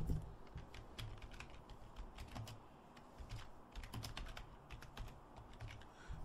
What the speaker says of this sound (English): I didn't type it in the right way